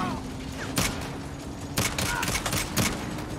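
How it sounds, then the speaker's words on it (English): A turret fires at the player in the Saints Row video game, with sharp gunfire bursts cracking out at intervals over a steady background rumble. "They have a turret. Can't take this kind of fire forever."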